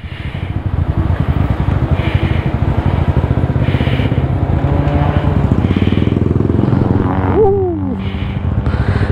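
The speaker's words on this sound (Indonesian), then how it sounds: "Oh, settle dah motor Nabil." A motorcycle engine runs steadily and loudly nearby, a constant throbbing drone throughout with a brief dip in pitch near the end, no talking.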